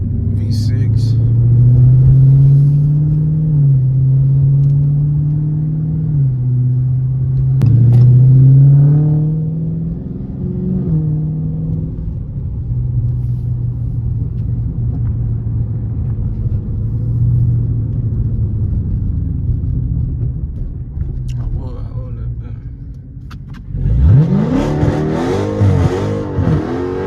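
A Dodge Challenger V6 drives in the rain with a low engine rumble and shifting revs heard from the cabin, and a voice talks over it with a sharper rev burst near the end.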